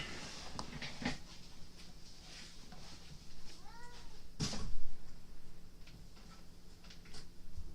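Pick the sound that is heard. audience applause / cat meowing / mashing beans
cat meowing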